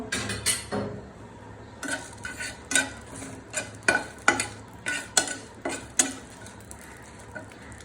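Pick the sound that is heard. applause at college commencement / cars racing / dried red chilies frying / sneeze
dried red chilies frying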